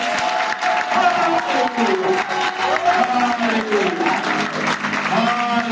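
A church congregation at an Easter celebration service applauds and cheers in a steady, loud, continuous wash of clapping, with sustained voices and sung tones running underneath throughout.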